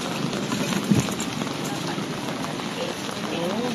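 Heavy rain pours down at the Navotas fish port market, a dense, constant wash of falling water close by, with people talking faintly underneath.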